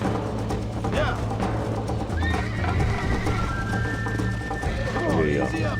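Horse in the Red Dead Redemption video game whinnying and neighing with clip-clop hoofbeats, set against a loud busy game soundscape and music, with talk over it.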